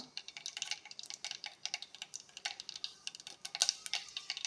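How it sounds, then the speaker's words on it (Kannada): Mustard seeds splutter in hot oil as a rapid run of sharp little pops and crackles, close and fairly quiet, continuing steadily without voices. "ಸಾಸಿವೆ ಸಿಗಿತಾ ಇದೆ"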